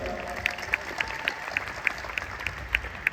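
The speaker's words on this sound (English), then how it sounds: "Give her a round of applause, everyone." Scattered clapping at a talk comes across as a light, thin patter of individual claps over a steady room hum, fairly quiet and without speech on top.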